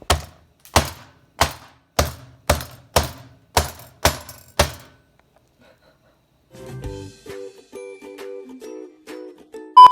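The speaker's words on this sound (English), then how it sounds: "After we chop the ginger, we're going to pound it with this fancy meat grinder." Chopped ginger pounded with a meat grinder, nine evenly spaced heavy thuds close by, each with a short ringing decay, followed by a quieter stretch of softer clattering and scraping.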